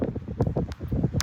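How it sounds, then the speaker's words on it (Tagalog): Strong beach wind buffeting the microphone in gusty, rumbling bursts, loud and close, with no talk over it. "Oh my God, sobrang lakas ng hangin"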